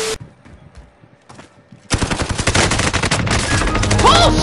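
Loud, rapid automatic gunfire from the video game Call of Duty Warzone bursts in after a quiet start, with dense, continuous shots filling the rest of the clip.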